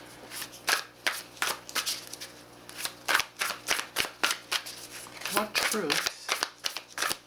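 Tarot cards are riffled and snapped in a quick, steady rhythm of crisp, close slaps. A voice speaks briefly over the shuffling near the end.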